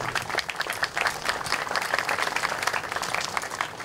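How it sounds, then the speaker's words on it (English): A crowd claps warmly at a garden tribute to Charles and Ester Breed on Dahlia Hill, with dense, steady applause that stays loud and even for the whole stretch. "So a round of applause might be appropriate for them right now."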